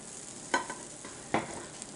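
A Southwestern omelet cooks in a pan with a soft, steady sizzle, broken by two brief scraping knocks of a utensil against the pan.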